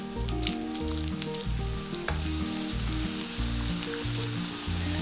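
Raw banana slices dropped into hot oil for banana chips, a loud, steady bubbling sizzle that runs throughout beneath background music.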